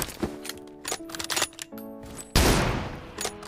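Rapid bursts of gunfire from a mobile shooting game, on a Poco X3 Pro, with M24 sniper rifle shots in a 1v1 match, crackling in quick clusters, then one heavy loud blast followed by a few more shots.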